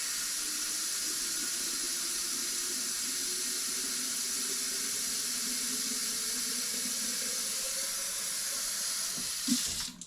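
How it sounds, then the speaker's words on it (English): Cold tap water pouring steadily into a pot of eggs, a continuous broadband hiss that stays even throughout, close and fairly loud, with no talking. "Add some tap water."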